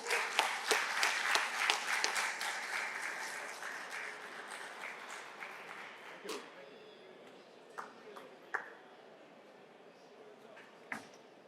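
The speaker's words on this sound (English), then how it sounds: "So again, big applause for everybody." Audience applause at the SMC BMC Design Award 2024 ceremony, dense and fairly loud at first, then thinning out after about six seconds into a few scattered claps against a quieter room.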